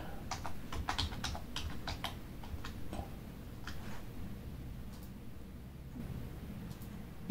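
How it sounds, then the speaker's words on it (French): Computer keyboard typing while entering a date into an Excel spreadsheet: quick irregular bursts of close, crisp key clicks with short pauses between them, alone with no talk. "Et en dessous, je vais taper une date."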